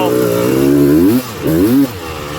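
A Honda TRX330R ATV fitted with a TSI 330 big-bore kit, its engine revving up and down in two rising sweeps with a brief dip between them, close and loud.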